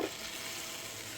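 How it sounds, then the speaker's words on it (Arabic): Hot syrup hits a freshly cooked mozzarella kunafa and sets off a brief, even hiss of sizzling, close and steady. "apagamos y le echamos el sirope en caliente"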